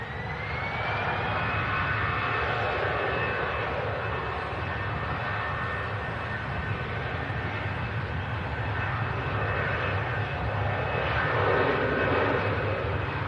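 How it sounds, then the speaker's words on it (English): An EasyJet airliner rolls down the runway for departure to Dubrovnik. A loud, steady jet-engine roar carries a high whine that rises slightly early on, then holds constant. "EasyJet on the roll out to Dubrovnik."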